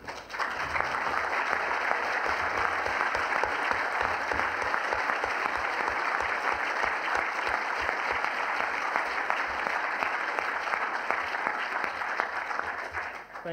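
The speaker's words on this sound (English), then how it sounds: "Thank you, but please reserve your applause to the end." Audience at a debate on whether Jesus was bodily raised from the dead breaks into sustained, loud applause from a large crowd, dense clapping continuing evenly for over ten seconds.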